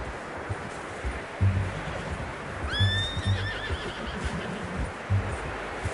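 A horse in Red Dead Redemption 2 whinnies once in a rising, trembling call over steady low background noise and soft rhythmic hoof clops.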